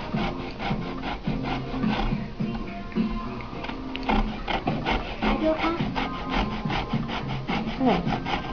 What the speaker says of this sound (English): First thing you're going to do is zest your orange.